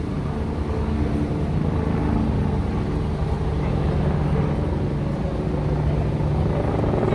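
Helicopters flying over Trafalgar Square in London, a steady low rotor drone blending with city traffic rumble, continuous and moderately distant throughout, with a voice briefly talking nearby.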